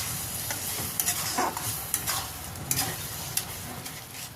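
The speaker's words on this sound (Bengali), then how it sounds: "আবারও ভালো করে মশলাটা কষে নেব।" A spice mixture is being stirred and fried in a pan for a potato dish, with a soft steady sizzle under repeated scraping strokes and clinks of the spoon, close by and fairly quiet.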